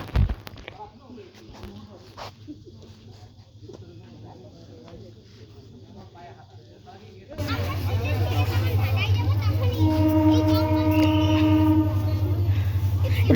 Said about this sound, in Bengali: জয়ন্তিকা তো এখন আসতেছে আমাদের জয়ন্তিকা এক্সপ্রেস